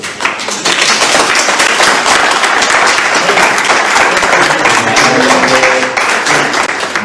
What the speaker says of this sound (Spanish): Me gustaría que le dieran un aplauso al Señor.